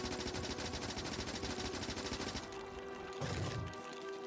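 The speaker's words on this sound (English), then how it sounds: "I was trying to drop hand grenades as fast as I could" Hand grenades drop and burst in rapid succession in Factorio, a dense, fast rattle of sharp explosive pops that thins out halfway and leaves one heavier low thud.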